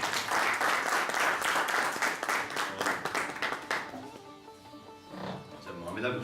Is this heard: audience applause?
yes